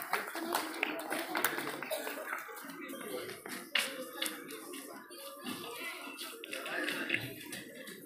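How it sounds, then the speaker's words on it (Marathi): Schoolchildren clapping at a school sports competition prize distribution, a crowd of small hands applauding in uneven bursts under an announcer speaking over a loudspeaker, with a sharper knock midway. "बक्षीस दिल्यानंतर मुलांनी टाळ्या वाजवायच्या आहेत"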